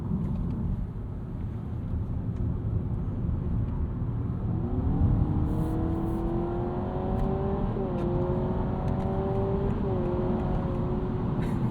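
A 2025 Honda Civic Hybrid accelerates through a corner, its engine drone rising in a smooth climbing whine over steady road and cabin rumble, with no talk.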